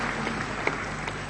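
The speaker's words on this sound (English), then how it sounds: "Shall we give another round of applause to welcome him?" An audience at a SADC summit applauds a welcome for Tanzania's President Magufuli, with dense, steady clapping from a large crowd throughout the brief moment.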